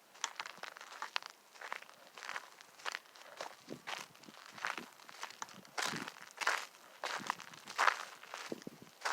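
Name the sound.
footsteps crunching on dried clay ground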